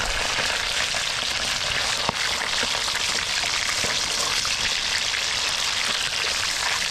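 Oil sizzles and crackles steadily as fish fries crisp in a pan, a dense, continuous hiss with small pops throughout.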